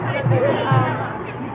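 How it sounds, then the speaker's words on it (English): A big crowd at a Martin Luther King Day march in Oakland chatters outdoors, a dense babble of overlapping voices close around. "It's a big crowd."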